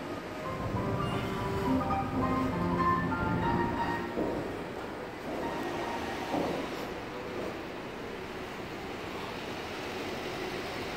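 Trains in the Gare de Lyon station hall in Paris, with a loud rolling rumble and tonal wheel squeal that fades to a steady hall ambience over about eleven seconds.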